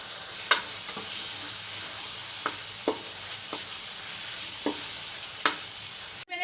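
Chopped green onions sizzle in a pan for spaghetti sauce, a steady hiss broken by several sharp scrapes of a spoon and a loud knock at the end.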